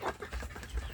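Chickens in a coop give a brief, faint burst of clucking, a few soft low calls close by within about a second.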